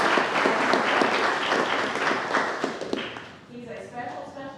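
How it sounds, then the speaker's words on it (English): Applause from attendees at a city council workshop and special called meeting, a dense round of clapping that tapers off as a speaker's voice returns near the end. "So how about a round of applause for"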